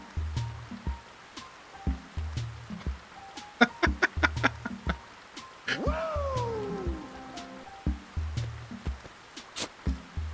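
A pet cat lets out a single drawn-out meow that slides downward, heard over rhythmic, plinking background music with soft clicks before and after.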